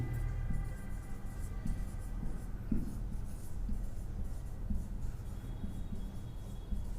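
A pen scratching out notes by hand on paper, steady soft scribbling strokes with small pauses between words, close and quiet with no talk.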